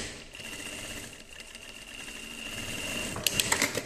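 Sewing machine stitching lycra fabric in straight stitch, with backstitch set to three stitches; a steady, fairly close mechanical whir runs throughout, ending in a few sharper clicking stitches near the end.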